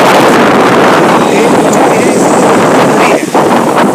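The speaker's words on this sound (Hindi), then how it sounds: "जो हवाएं हैं अपना रुद्र रूप दिखा रही है" Strong gusting wind outdoors on the road out of Sendhwa during a sudden turn in the weather: a loud, constant roaring rush buffeting the microphone, with brief dips as gusts shift.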